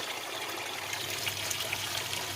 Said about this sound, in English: I'm still leaking water there